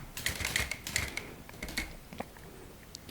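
Keys of a retro typewriter clack and tap in quick, irregular bursts, close-up and crisp, with no voices over the mechanical patter.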